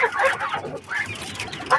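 Several quails chirp and cluck in short overlapping calls, fairly close, with busy bursts throughout and a sharper call near the end.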